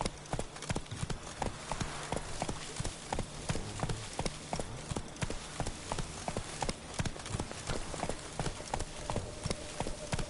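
The horse Roach galloping in The Witcher 3, a fast, steady clip-clop of hooves repeating throughout, loud and close.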